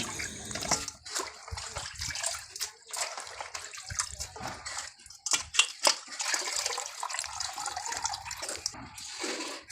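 Chicken feet and trimmings for a curry being rinsed by hand under running water, with steady splashing and dripping and intermittent clatter throughout, close and moderately loud.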